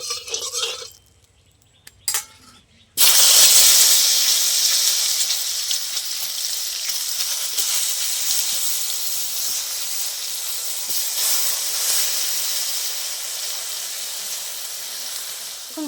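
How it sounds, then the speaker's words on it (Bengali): Eggplant slices hit hot oil in a pan after a few quiet seconds of clatter, then a loud, steady sizzle and hiss that stays strong and slowly eases, with no talking. "বাকি বেগুনগুলো আমি একই রকম করে ভেজে নেব।"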